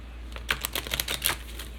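An oracle card deck is shuffled up close with a quick run of soft, crisp clicking and riffling, about a dozen rapid flicks over two seconds, quiet and alone.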